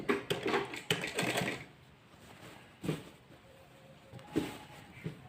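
A sewing machine stitches the waistband casing of a salwar in short bursts, with clattering runs separated by pauses and a few isolated knocks, close and fairly loud.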